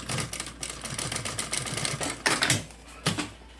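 A sewing machine stitches fabric for a school backpack, a close, steady mechanical whirring run that pauses and restarts in two short, louder bursts near the end.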